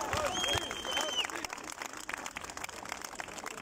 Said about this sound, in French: On applaudit monsieur le maire